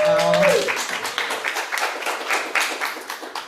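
An audience at an evening LGBTQ reading-series event bursts into dense, sustained applause for a volunteer, following a brief voice at the start and tapering slightly over a few seconds.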